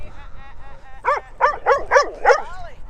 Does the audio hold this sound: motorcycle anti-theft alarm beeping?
no